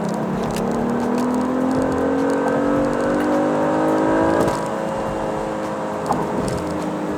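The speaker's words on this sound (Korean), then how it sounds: "자, 여기서 극가속을 해보겠습니다." Genesis G80 3.5T sedan with sport package in Sport+ mode under hard acceleration, its engine note climbing steadily with rising harmonics, loud and close from inside the cabin, then easing off near the end.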